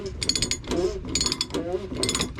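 A ratchet wrench tightens the fuel filter on a 3.0L Duramax Sierra, giving several close, rapid clicking bursts with short pauses between them.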